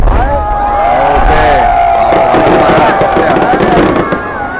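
New Year's Eve fireworks at the city square in Thai Binh, Vietnam: continuous loud crackling bursts with whistling rising shells, heard amid a cheering crowd throughout.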